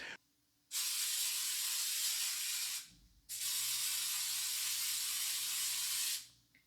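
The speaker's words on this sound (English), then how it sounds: "we're going to go ahead and spray this pan." Two long bursts of cooking spray hiss steadily from an aerosol can, each lasting a few seconds, separated by a brief pause.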